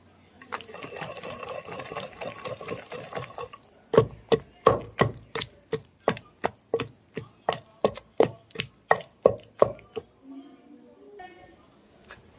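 Stone mortar pounding brinjal and green chilli chutney ingredients, Andhra style: a steady run of sharp, evenly spaced thuds up close, preceded by softer grinding scrapes.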